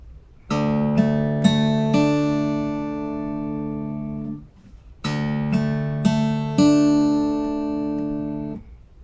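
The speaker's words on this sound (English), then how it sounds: "we're going to arpeggiate, which means essentially we're just going to play the notes one at a time" A guitar in an alternate tuning lets one chord ring out slowly, note by note, stacking into a sustained wash; the arpeggio is played twice, each pass fading before the next begins, with no voices.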